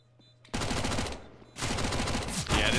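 Rapid bursts of MAC-10 submachine-gun fire crackle in Counter-Strike, two dense full-auto strings broken by a short pause, loud and close.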